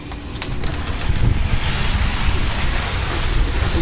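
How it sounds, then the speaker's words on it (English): Strong wind gusting outdoors after a small but intense thunderstorm, a broad rushing roar with buffeting against the microphone, continuous and fairly loud throughout, with no voices. "And it's still pretty windy out there."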